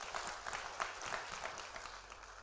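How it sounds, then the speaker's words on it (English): A church audience claps along during a sermon, soft scattered hand claps spread across the room, fairly quiet and steady with a few sharper individual claps standing out. "Somebody clap your hands if you believe this."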